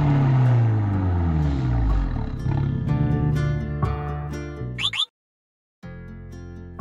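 An Abarth 124 Spider's four exhaust outlets roar loudly and up close, the pitch swelling and falling through revs, then cutting to a brief silence before the engine note returns.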